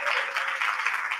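Alumni panel audience clapping steadily and evenly throughout, a continuous dense patter of many hands at moderate loudness with no voices over it.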